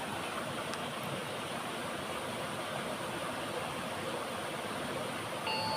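Steady river water flowing, a soft continuous rushing wash with no breaks, fairly faint and even throughout.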